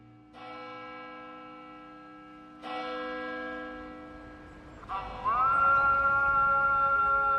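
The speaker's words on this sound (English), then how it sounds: "The chimes of the church bells and the calls from the minaret create a sense of rhythm and order within a community" Church bells chime in three loud, separate strikes, each ringing out with a rich, sustained metallic tone that overlaps the next and swells by the final stroke.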